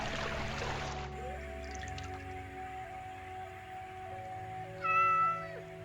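A cat meows near the end, one short rising call heard over a steady game soundtrack of sustained music tones, with no talk.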